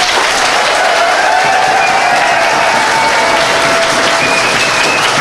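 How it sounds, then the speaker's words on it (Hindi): An audience gives dense, steady, loud applause for a physics teacher being honoured in Delhi, a continuous wash of many hands clapping with no break. "ताली बजाइए सर के लिए।"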